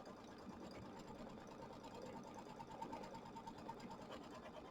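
An embroidery machine stitches a placement line for an appliqué tree block on fabric, a steady, fairly quiet mechanical whir with rapid needle pulsing that runs continuously and alone throughout.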